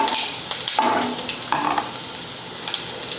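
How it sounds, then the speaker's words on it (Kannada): Cumin, mustard seeds and peanuts sizzle in hot tempering oil for mint rice, a close, steady crackle with bursts of spattering and occasional stirring scrapes. "ಈಗ ನೋಡ್ರಿ, ಇವು ಜೀರಿಗೆ ಸಾಸಿವೆ ಎಲ್ಲ ಸಿಡ್ದಾವು, ಶೇಂಗಾದ ಕಾಳು ಹುರಿದಾವು"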